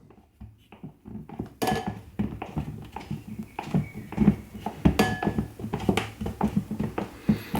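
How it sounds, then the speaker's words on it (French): A spatula folds meringue in a bowl for a cotton candy mousse, producing soft, irregular scraping and tapping strokes, close and moderately loud. "à l'aide d'une maryse, je vais mélanger sans faire retomber la masse"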